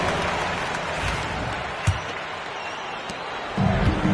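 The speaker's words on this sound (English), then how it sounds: "Give yourself a round of applause." Arena crowd in the NBA 2K basketball video game, Indiana Pacers against Toronto Raptors: a continuous broad wash of cheering and scattered applause, moderately loud, with a couple of brief thumps and a swell near the end.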